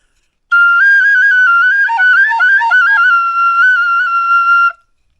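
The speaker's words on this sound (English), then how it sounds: "The Japanese whistle." Simple Japanese whistle blown in one loud, close, sustained tone lasting about four seconds, with slight wavering pitch and small warbles in the middle.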